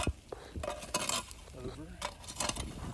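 Fresh charcoal coals slid and scraped across the grill bed for an Argentine asado, giving scattered clinks, scrapes and light rattles, close by, with someone talking over them.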